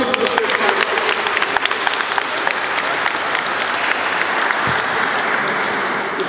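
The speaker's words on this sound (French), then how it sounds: "Applaudissez aussi pour Stéphane." Applause for Stéphane during an Easter church service, dense steady clapping from a congregation that continues evenly throughout with a faint voice beneath.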